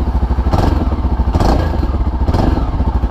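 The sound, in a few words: Honda Twister motorcycle engine running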